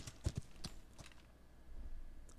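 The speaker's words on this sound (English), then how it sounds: "I'll take the horse out and look for one." Horse hooves clip-clop faintly in the Old West survival game Outlaws of the Old West, a few quiet, uneven hoof knocks over low ambient background.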